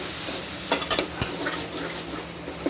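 Chicken masala for chicken mughlai stir-fried in a pan, a soft steady sizzle with a few sharp scraping stirs and clinks, fairly quiet and close, no talk.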